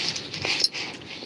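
A female dog named Beefy whimpers in short, high, nasal whines, close and fairly soft, with no talking over them.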